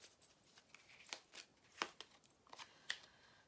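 Cards drawn and slid from a deck during a tarot-style reading, a string of light papery flicks and taps, close and quiet with no talk over them.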